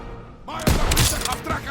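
Bursts of gunfire in the World War II shooter Call of Duty WWII, rapid cracking shots and impacts that pile up loudly after a quiet moment, mixed with a shouted voice.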